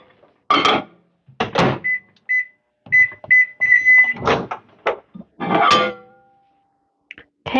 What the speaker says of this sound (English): So now I'm just going to stick it in the microwave.